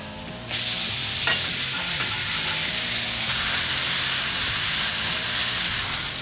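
A blackened ribeye steak hitting the hot surface after a flip, a sudden loud burst of sizzling that holds as a dense, continuous hiss with faint scraping underneath, close up and without speech.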